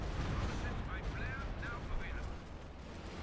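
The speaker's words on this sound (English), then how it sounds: "Another artillery barrage off here from the Germans." German rocket artillery fires a barrage in the Company of Heroes 2 strategy game, producing a dense, continuous rumble of blasts and whooshing launches, with faint voices under the battle noise.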